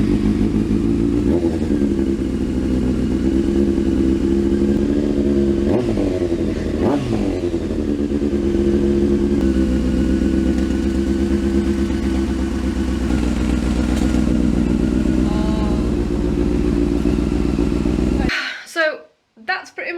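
A motorcycle idles loud and close with its exhaust removed, a raw rough drone with a couple of brief blips of the throttle, before it abruptly cuts off and leaves a few clattering noises.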